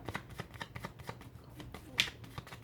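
A deck of cards being shuffled and cut during a tarot-style reading, heard as rapid riffling flicks in a steady rhythm with a sharper snap near the end, close and fairly quiet.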